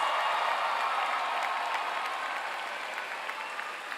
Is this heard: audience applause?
yes